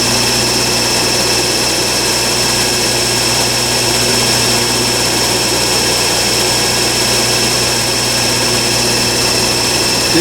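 A Denso alternator spinning at 2000 RPM on a test bench gives a loud, steady mechanical whine and hum with a high tonal line, constant and unbroken throughout with no talking.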